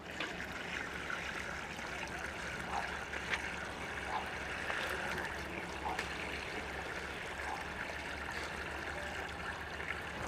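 Water poured into a pot of leaves for an organic pesticide brew, a continuous splashing trickle with faint bubbling, steady and close, with no voices.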